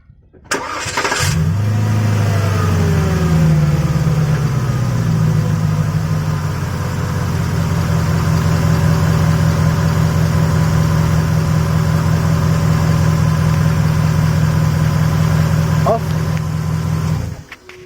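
A Porsche Cayenne S 4.5L engine cranks and catches, then settles into a steady, loud idle that hums on evenly for a long stretch before cutting off.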